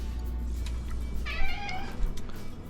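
A kitten meows near a stovetop where rendered tallow is melting, giving a couple of short, high cries over a low kitchen hum.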